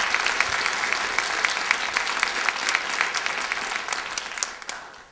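Lecture-hall audience applause after a talk in the Simpson lecture series, a full, dense wash of clapping held steadily for about five seconds before tapering off at the end.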